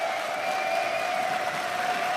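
An esports arena crowd at a League of Legends LCS EU match cheers and applauds, a steady wash of clapping and voices heard from a distance.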